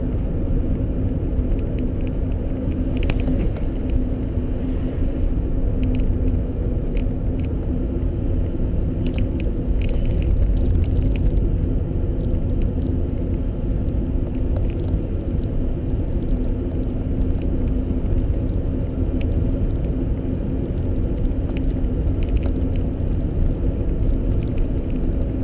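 Converted electric car rolling along in third gear with its window down, a steady low rumble and road whir that stays even and continuous throughout, free of engine noise or talk.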